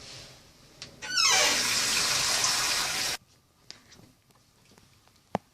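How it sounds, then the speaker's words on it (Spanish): Water pours into a soup pot in one steady two-second gush that starts abruptly and stops just as suddenly, followed by a few faint clinks and taps in a quiet kitchen. "En este caso vamos a poner una taza de agua por persona."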